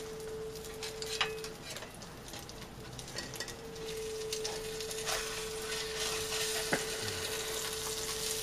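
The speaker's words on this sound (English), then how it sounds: "can you hear that sizzle though?" An egg omelet sizzles steadily in a frying pan at breakfast, a constant close hiss with a few faint clicks and light scrapes over it.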